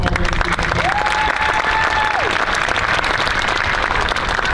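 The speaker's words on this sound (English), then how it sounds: "Can I have one more round of applause for all the hard work?" Sustained, loud applause from a school concert audience after a middle school jazz ensemble's spring performance, steady throughout with a brief tonal whistle-like sound drifting over the clapping.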